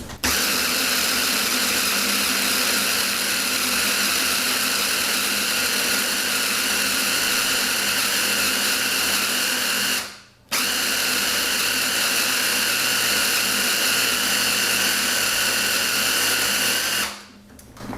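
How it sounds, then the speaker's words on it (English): A food processor blends a vegan key lime tart crust mixture, a loud, shrill, steady motor whine running for long stretches with two brief pauses before starting up again. "So you're blending it until it starts to stick together"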